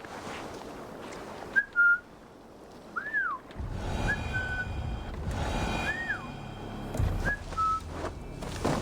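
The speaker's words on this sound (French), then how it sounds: "Ceux qui ont reconnu, c'est les sifflements dans Assassin's Creed Black Flag." Whistling from the pirate video game Assassin's Creed Black Flag: several short, sliding two-note whistles spaced a second or two apart over a steady ambient wash of wind, water and low rumble, fairly close and clear.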